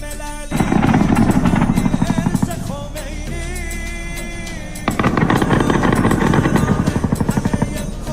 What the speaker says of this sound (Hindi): अमेरिका के हेलीकॉप्टर गोलीबारी कर रहे हैं